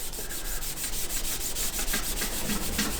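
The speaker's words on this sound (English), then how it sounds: "you give a light scuffing to everywhere that the primer and adhesive is going to go, all the way around the window" Abrasive scuffing rubs rapidly and continuously over the windscreen frame of a BMW E36 to prepare it for primer and adhesive, producing a dense, close, steady scratching with quick back-and-forth strokes.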